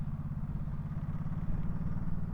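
Ducati Supersport 950 S motorcycle engine pulling steadily uphill in second gear around 3,000 rpm, a continuous low, throbbing drone heard up close with no talk.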